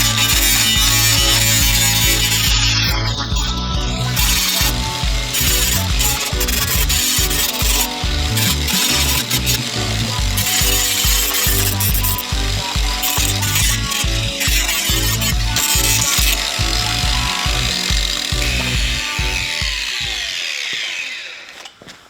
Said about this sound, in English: Got a grinding disc on now, not that it makes a lot of difference being plastic